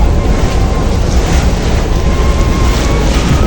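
Passenger launch boats on a river near Barishal, heard as a steady loud rush of water and wind with engine rumble underneath, close and unbroken throughout.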